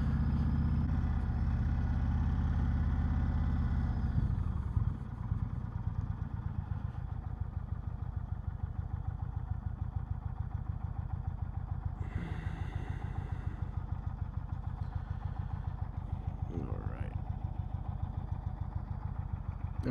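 A 2019 Indian Chieftain Dark Horse motorcycle engine gives off a faint, steady low rumble with an even pulsing beat, heard from some distance throughout.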